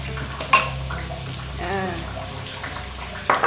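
Crushed garlic frying in oil in a pan for a southern Thai pork dish, a soft close sizzle running under faint kitchen clatter and a brief voice-like tone, with a couple of louder clinks.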